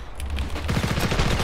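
Gunfire in the video game Ravenfield comes as a loud, rapid automatic burst of evenly spaced shots, close and continuous across the whole moment, with heavy low thumps under a crackling battle din.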